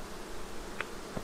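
Honeybees at an opened hive during a swarm-season inspection, a steady low insect hum under the background with a couple of brief closer buzzes as bees pass near.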